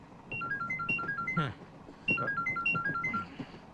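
A phone ringtone plays a short, bright electronic melody that repeats twice, with a brief gap between rounds.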